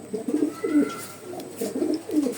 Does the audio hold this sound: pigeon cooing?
yes